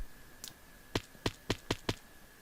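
Loud banging on a door inside a Minecraft horror map, heard as five or six sharp, evenly spaced knocks after one fainter tap, with no talk over them.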